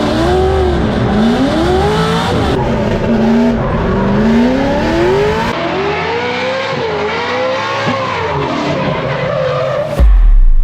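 A drift car sliding at the LZ Compound, its engine revving up and down in loud sweeping waves with continuous tire squeal and skidding, close by, then a sudden loud thump at the end.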